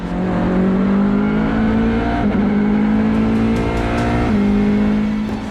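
An LMP2 race car from United Autosports, racing in the season's final round in Malaysia, screams past up close with a loud, sustained engine note and brief shifts in pitch as it accelerates, with no talking.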